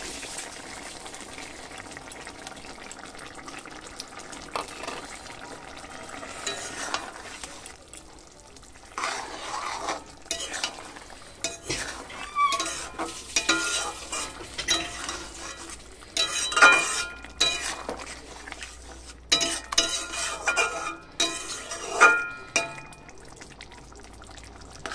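Mustard and green chilli paste being stirred into a simmering curry in a pot: soft scraping and sloshing strokes over a low bubbling boil, irregular and close, with no talk.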